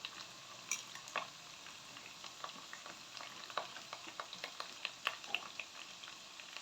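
Banana fries sizzle steadily in a pan of hot oil, with a dense crackling hiss and scattered sharper pops throughout, close and moderately quiet, no voices.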